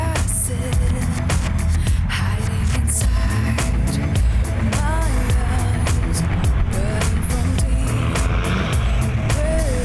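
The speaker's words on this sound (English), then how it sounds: "Roland and Tim are having no big problems in their Nissan Patrol and drive effortlessly by their" A Nissan Patrol drives through an off-road competition course, its engine droning steadily with shifting revs and rattling bumps, a loud continuous mix of motor and terrain noise with a faint voice briefly audible.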